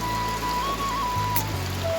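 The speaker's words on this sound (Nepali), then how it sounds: "पानी परिरहेछ।" Morning rain falls steadily on a village in Ilam, a continuous even hiss with a faint low hum beneath, no voices.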